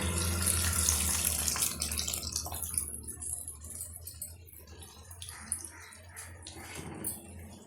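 Dissolved tamarind water strained into a pan for brinjal thokku, a steady splashing pour that is loud at first and then thins to a quieter trickle with small drips, with no voices.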